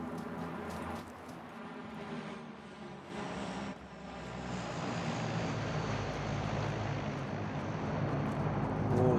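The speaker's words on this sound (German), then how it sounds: "Ich höre ein Flugzeug." An airplane flies overhead in PUBG, its propeller engine droning as a continuous broadband rumble that grows steadily louder over the clip, with faint ambient sounds underneath.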